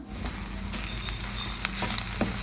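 Spinach thoran with a coconut spice mix of chili powder, turmeric and cumin stirred in a hot pan, giving a steady soft sizzle with faint scraping stir strokes throughout.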